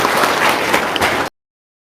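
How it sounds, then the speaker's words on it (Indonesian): An audience at a talk gives a short burst of steady clapping that cuts off abruptly after about a second. "tepuk tangan dong"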